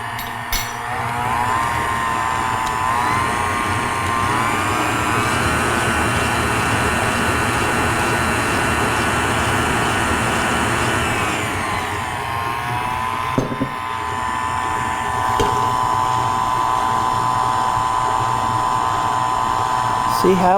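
A Cuisinart SM-50 stand mixer, 5.5 quart and 500 watts, mixing batter of flour, baking powder, salt and vanilla. Its steady loud motor whir runs the whole time, dips once in pitch and settles again.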